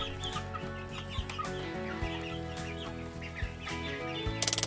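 Chickens clucking under a music bed with a regular thumping beat, the bird calls light and scattered throughout.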